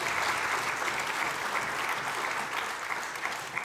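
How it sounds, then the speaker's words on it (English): Steady round of applause from a ceremony audience at a university event, many hands clapping continuously at moderate loudness, tapering slightly near the end. "Another round of applause for our"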